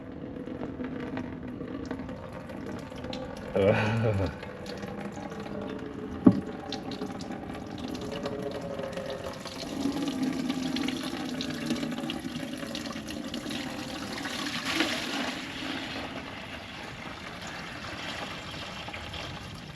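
Water running and splashing as it drains from a Transtar 2 cabover truck with a Caterpillar 3406 engine, a steady rushing flow with a few clanks and knocks during repair work.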